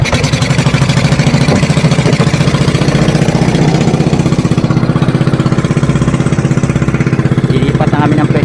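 A small 7.5 horsepower fishing boat engine with an XRM 110 carburetor chugs loudly and steadily up close, its rapid mechanical rhythm continuous with a clattery edge.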